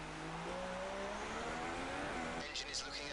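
A Formula 1 car engine from the F1 2016 racing game, with a worn engine giving reduced power, drones steadily throughout under continuous commentary, its harmonic pitch gliding slightly, with a few brief higher bursts near the end.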